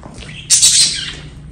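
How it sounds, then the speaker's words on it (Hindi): A parrot in an aviary lets out a loud, harsh squawk lasting about half a second, rising sharply over a quiet background with faint rustling before and after. "ये तोता इधर आया है।"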